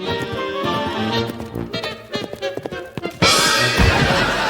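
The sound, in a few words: horse at riding competition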